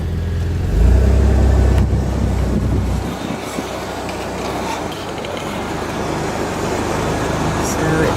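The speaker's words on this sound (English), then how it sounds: "looking back at the entrance at Harbor Boulevard and Fair Drive. So a busy intersection." Busy traffic at the intersection of Harbor Boulevard and Fair Drive, with a loud low rumble of a heavy vehicle passing close early on, then a steady wash of passing cars and road noise.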